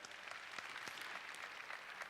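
Soft, scattered clapping from a church congregation patters steadily for a couple of seconds, faint and somewhat distant.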